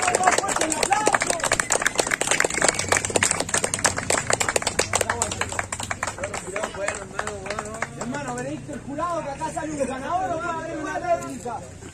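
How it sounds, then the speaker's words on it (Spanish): Rap battle final audience applauding, a dense, loud burst of rapid clapping mixed with crowd chatter that thins out later as voices and cheers take over. "¡Más fuerte el aplauso!"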